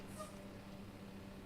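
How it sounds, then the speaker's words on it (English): A cat meows once in the SnowRunner video game, a short faint call near the start over a steady low game hum, with no talk. "That's a cat, though."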